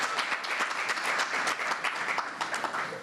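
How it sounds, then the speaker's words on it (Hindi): An audience breaks into sustained applause, a dense wash of many hands clapping evenly for several seconds. "तालियां बजाओ एक बार अपने लिए आप लोग प्लीज"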